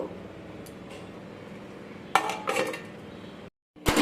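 A lid goes onto a bowl of flattened rice soaked in a little water, giving a couple of close metallic clanks and rattles, then a short silence and another sharp clink.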